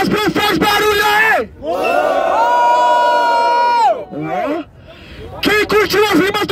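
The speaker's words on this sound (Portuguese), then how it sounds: "Aí, quem curtiu as rimas do Jasper, faz barulho aí!" A rap battle crowd roars and shouts in response, with a host's amplified voice calling out between loud bursts of cheering and whooping that swell, drop briefly, then surge again.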